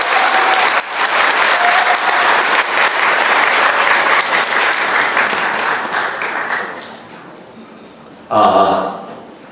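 A large crowd at a packed redevelopment briefing hall applauds loudly and steadily as a construction company's team leader is called to the stage, the clapping fading near the end before a short burst of voice.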